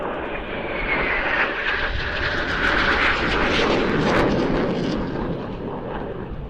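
Tornado fighter jet flying at an airshow in Leszno, a loud, swelling roar of jet engines that builds and sweeps past, with a rough rumbling texture and no talk.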